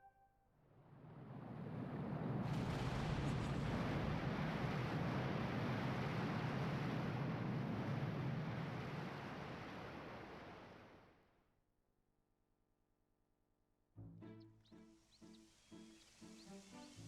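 Water draining away from Faron Woods in the video game Zelda Skyward Sword, a loud broad rushing and churning wash that swells for several seconds, then fades to quiet before game music starts.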